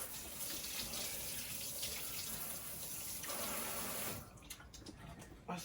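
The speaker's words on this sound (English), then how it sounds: "And then let me wash my hand off." Hands are washed under a running kitchen faucet, a steady close rush of water that shifts tone partway through as the hands move in and out of the stream, then breaks into a few splashes near the end.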